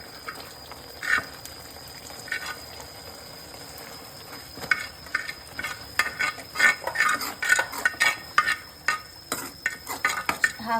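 Stirring grated boiled egg into a pan of egg keema masala with garam masala, giving soft irregular scrapes and light clinks of a spoon against the pan, close by and fairly quiet, with no talking.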